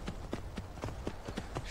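Horse hooves in The Elder Scrolls V: Skyrim, a quick, even clip-clop of about seven hoofbeats trotting at a close, moderate volume.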